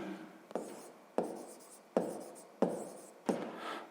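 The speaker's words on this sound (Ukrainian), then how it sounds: "Ну що ж, записуємо." Pen or pencil writing out a math answer on paper, close and fairly quiet: five distinct strokes or scribbles, each starting with a sharp tap and fading over about half a second, with no talking.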